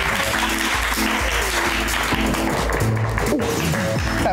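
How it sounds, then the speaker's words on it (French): An audience applauds on a Haitian talk show as a guest is welcomed, steady clapping under a loud, continuous layer of music and voices that keeps the claps partly buried. "applaudis avec nous"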